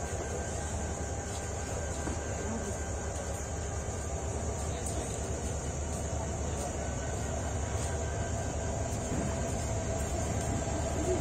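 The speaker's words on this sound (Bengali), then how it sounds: "আজকে লোকোমোটিভ নিয়ে প্রবেশ করছে 3000 সিরিজের লোকোমোটিভ নিয়ে চট্টলা এক্সপ্রেস" Chattala Express, Bangladesh Railway intercity train number 802, pulling in behind a 3000-series locomotive with Chinese coaches. It makes a steady, moderately loud rumble and rail noise that continues unbroken.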